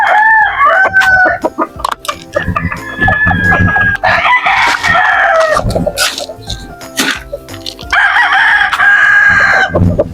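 Texas and native chickens are heard up close, with loud repeated rooster crowing and clucking from the flock in bursts across the scene, no talk.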